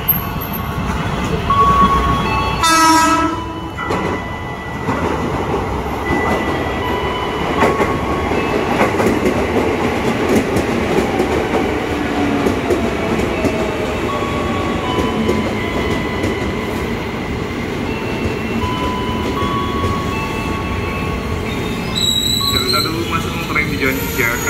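A KRL commuter train rolls into Cawang station, heading south toward Pasar Minggu, Depok and Bogor. Wheels rumble and clatter steadily at close range, with an announcement voice and brief platform sounds at the start and end.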